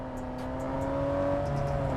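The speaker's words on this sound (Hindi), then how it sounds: "अमान गाड़ी घुमा के पीछे निकलते हुए पंच बटोरने की कोशिश की" A car in a battle royale game drives with a steady engine drone and whir, loud and continuous, with faint clicks on top and no voices.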